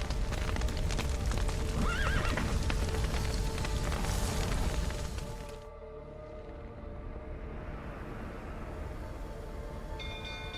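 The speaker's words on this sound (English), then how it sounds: "The horses!" Horses whinny over clattering hooves in The Witcher 3, loud and busy at first, then falling away to a quieter ambient bed.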